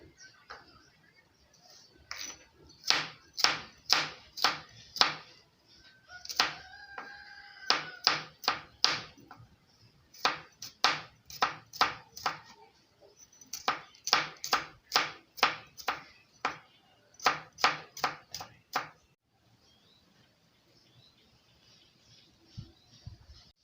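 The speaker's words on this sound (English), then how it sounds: "I'll wash my garlic, then cut them into pieces to add to the pepper soup" Garlic being chopped with a knife on a board for chicken pepper soup: a close, crisp series of quick repeated taps in several bursts with short pauses between them, and faint background noise.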